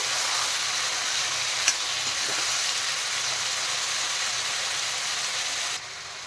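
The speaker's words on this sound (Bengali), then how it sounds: "এখন আমি সেদ্ধ করা কাঁঠাল ভেজে নেব। নেড়ে চেড়ে ভালো করে ভেজে তুলে নেব।" Boiled jackfruit frying in a pan, a loud, even, dense sizzle held steady throughout with one sharp clink partway, dropping in level near the end, close with no speech.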